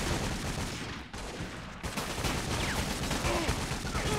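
Dense video game gunfire in 50 Cent: Bulletproof, with rapid overlapping shots and bursts that form a continuous loud barrage, and a short gap of lower noise near the start.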